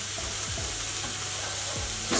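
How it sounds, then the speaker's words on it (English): A spicy fish mixture for enchilada wraps sizzles steadily in oil in a pan, with a few scraping stirs through the constant close frying hiss. "So let's get this sauteed through."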